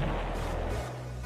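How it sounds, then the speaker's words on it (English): A rocket launcher blast in a boss-fight video game, a heavy low boom that rumbles and fades over about a second. "No, that's a rocket launcher."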